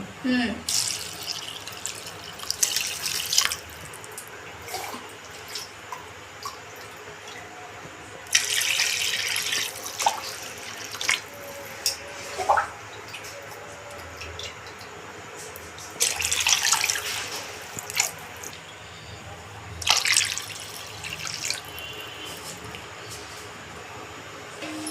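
Water runs from a tap in short bursts, splashing into a sink several times amid kitchen clatter and background noise.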